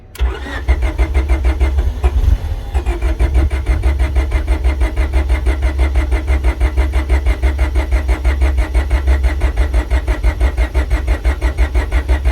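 A Honda Civic hatchback engine cranks in a fast, even rhythm and sputters as it tries to catch, loud and close for the whole stretch, with no talking.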